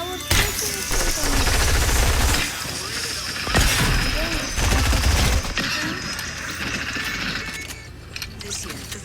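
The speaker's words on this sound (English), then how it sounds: "oh, why did I shoot?" Rapid bursts of gunfire from the mobile version of the video game Fortnite, loud and dense, with a voice talking over the shooting.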